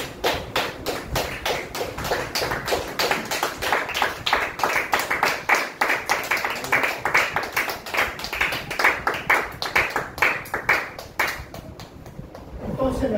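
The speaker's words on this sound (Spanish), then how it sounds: "Denle aplausos al Señor." A church congregation claps in a firm, even rhythm, crisp sharp claps repeating in unison at a brisk pace for most of the stretch before fading out near the end.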